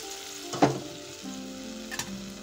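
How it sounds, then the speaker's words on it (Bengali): Spices frying in oil for a sardine fish curry crackle softly in the pan, with a sharp hiss as a little water hits them, then a quieter sizzle with a second small burst. "তো এবার এর মধ্যে জল দিয়ে দিচ্ছি।"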